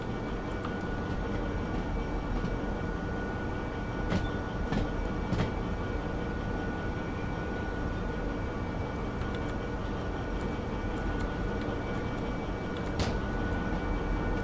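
Diesel locomotive in the train game Derail Valley, a steady low engine drone with rolling rail noise and occasional sharp clicks, even and continuous throughout with no voices.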